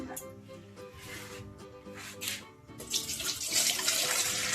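Water runs steadily from a tap into a vessel while fuchka water is prepared at home, a continuous splashing rush that grows louder and brighter toward the end, with kitchen clatter underneath.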